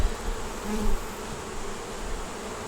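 Honeybees buzz around an open hive during an inspection, a dense steady hum close by with a few louder passes near the start, no voices.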